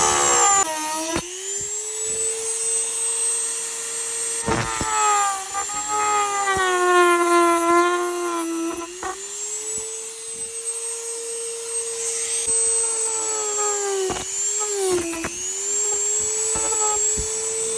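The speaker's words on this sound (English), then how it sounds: "Couldn't find a soldering pen, so Dremel it is." Dremel rotary tool cutting into a 2022 Subaru BRZ door panel: a loud, high-pitched whine that climbs and dips with load, broken by short pauses, and runs almost the whole time with no talking.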